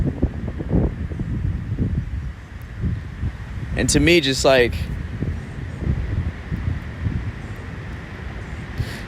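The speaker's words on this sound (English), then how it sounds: "It's quite windy." Wind blows steadily beside Lake Michigan in a park, rumbling against the microphone under someone talking, with a brief birdlike chirping flurry midway.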